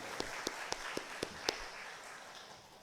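Faint congregational applause in a church after a choir solo: six soft, evenly spaced claps, then a fading murmur.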